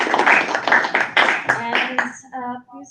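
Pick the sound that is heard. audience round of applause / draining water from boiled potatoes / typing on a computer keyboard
audience round of applause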